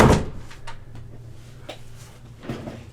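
A door in a house swings shut with a sharp knock at the start, followed by a few softer bumps and a small clack near the end, heard close in a quiet room.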